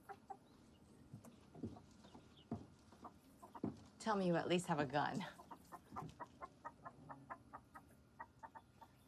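Chicken clucking, heard as a run of short, evenly spaced clucks in the second half, fairly close, with speech and a burst of other animal or bird calls coming before them.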